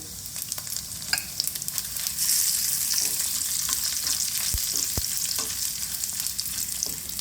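Dried red chillies frying in a pan of oil, with a bright, steady hiss of sizzling and scattered sharp ticks and pops from stirring, close and uninterrupted, with no talk.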